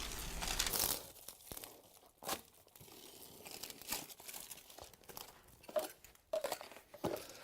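InstaLay peel-and-stick underlay for wood flooring is handled and cut up against a wall, producing close crinkling and crunching with short tearing scrapes and irregular taps, and no talking.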